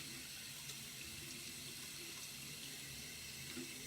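Tap water runs steadily into a bathroom sink while a makeup brush is rinsed under it, a constant close splashing hiss with small fluctuations and no talking.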